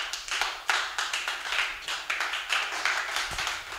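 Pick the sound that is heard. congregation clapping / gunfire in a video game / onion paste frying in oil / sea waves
congregation clapping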